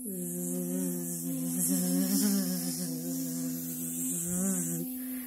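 A voice hums a steady, buzzing "zzz" imitating bees, sustained for several seconds with slight wavering pitch, close and clear.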